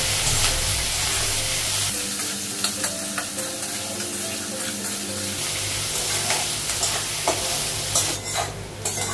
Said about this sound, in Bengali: একটু লাল করে ভাজবো আলুটা পেঁয়াজটা